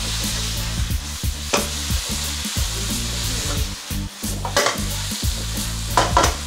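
Kuey teow noodles stir-fried with dark and light soy sauce in a Cantonese beef ginger dish, a loud steady sizzle broken by repeated scraping stirs, close up and without talk.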